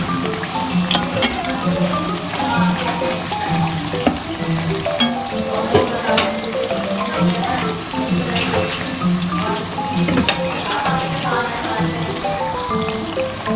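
Potato and onion pakoras frying in hot oil give a steady, dense sizzle and crackle throughout, with scattered pops and occasional stirring clinks, fairly loud and close, with no speech.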